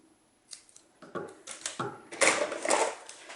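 Paper trimmed with a paper trimmer for a stamped card, a quick run of crisp slicing and snipping strokes that grow louder toward the end, close and alone.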